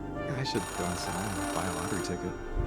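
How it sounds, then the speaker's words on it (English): A ringing payphone in the video game Oxenfree II sounds through the scene, its bell-like tone running under a person's steady talking. "Payphone ringing in the wild?"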